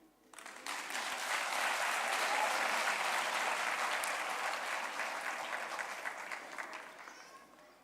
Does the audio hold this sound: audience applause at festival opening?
yes